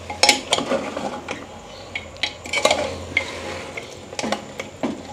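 A goat's head curry, Thakali style, being stirred in a pot with a utensil: repeated metallic clanks and scrapes come in irregular bursts, with only a faint cooking hiss underneath.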